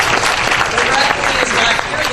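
Audience applause at a board of education meeting, a dense, steady wash of clapping filling the room at moderate loudness for about two seconds, with some voices mixed in.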